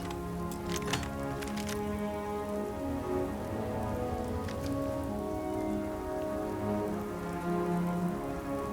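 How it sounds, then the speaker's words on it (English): Steady rain in the game Starfield patters and splashes on surfaces throughout, a dense continuous wash of drops with a few sharper taps standing out. "Crazy that it's still raining though."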